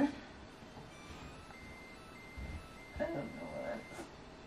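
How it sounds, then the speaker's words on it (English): An alarm beeps faintly with thin, repeated electronic tones, partly buried in room noise and low background sounds. "Oh, it's the alarm."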